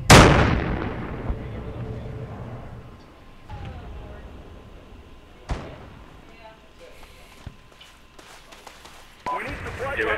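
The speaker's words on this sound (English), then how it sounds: "Grenades." Grenade blasts in the military shooter Project Reality during a counter-insurgency battle in Fallujah: a heavy boom at the start, then scattered thuds and cracks, with another burst near the end.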